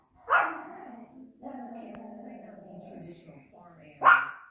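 A Yorkie barks at the TV, two sharp yaps bracketing a stretch of low whining and grumbling, close to the mic, with a person talking over it.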